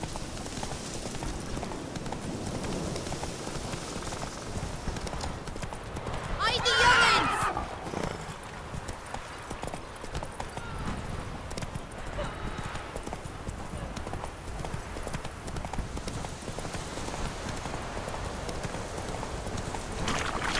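The horse Roach gallops in The Witcher 3 on PS4, a steady fast clip-clop of hooves running throughout, with a brief louder swell partway through over a constant game ambience.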